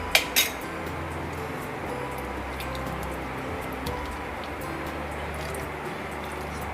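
A spoon stirs custard mixture in a pan, opening with a couple of sharp metallic clinks, then settling into a steady, close scraping and swirling sound with no voices.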